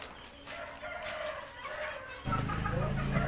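A pale, sick green junglefowl hen gives soft clucking calls, faint and intermittent, before a louder low background noise suddenly rises and continues.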